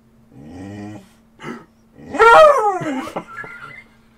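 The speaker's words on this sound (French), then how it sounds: "Est-ce que vous avez déjà entendu un chien faire ce genre de bruit?" A dog gives an odd, drawn-out whimpering whine in several bursts, close and fairly loud, with rising and falling yelping tones near the middle.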